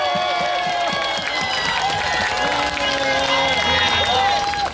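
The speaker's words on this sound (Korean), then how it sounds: "여러분 박수 한 번만 쳐주세요." Outdoor crowd at a final election campaign rally at a Daegu intersection, loud and continuous with voices shouting and cheering over scattered clapping and rally noise.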